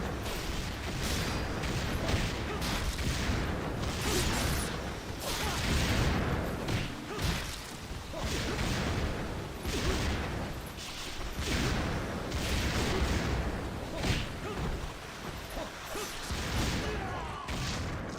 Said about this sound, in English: That is a lot of explosions